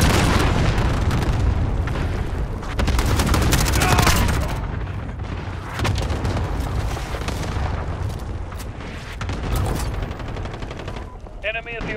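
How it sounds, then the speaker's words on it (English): Explosions from a cruise missile strike in the Call of Duty Warzone video game boom and rumble densely and loudly, mixed with rapid bursts of gunfire and continuing for the whole span. "Allied cruise missile launched."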